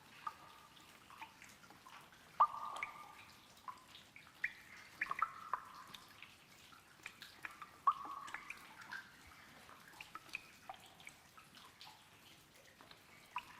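Water drips and trickles into an underground cave in a video game, with scattered echoing plinks over a faint, steady flowing wash.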